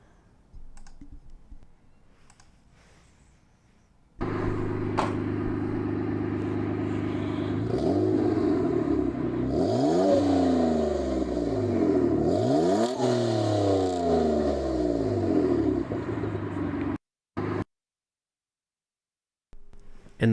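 A vintage antique snowmobile engine runs steadily at idle, then is revved repeatedly in rising and falling sweeps, a close and loud exhaust note that cuts off abruptly near the end.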